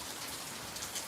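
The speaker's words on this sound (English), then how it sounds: "All right, it's letting up. The rain's letting up." Steady rain falling on surfaces outdoors during a storm, a dense continuous hiss of drops with no voices.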